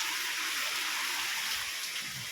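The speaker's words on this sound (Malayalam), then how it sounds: "മഴേന്റെ സൗണ്ട് കൂടെ കേൾക്കൂല അല്പം" Steady rain hisses down outside a home kitchen in Kerala, a dense, even wash with no distinct drops, close and moderately loud with no talking.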